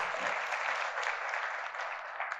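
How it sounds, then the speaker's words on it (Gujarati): An audience at a Godhra poetry gathering claps in a sustained, even burst of applause that fills the room, fairly loud and steady throughout. "જોરદાર તાળીઓ આપણા પ્રદેશ માટે."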